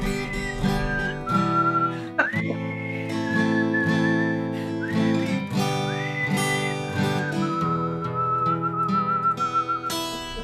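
A person whistles a melody over a backing track during a Valentine's Day livestream performance, with the bright whistled tune sliding and holding notes above the music for about ten seconds.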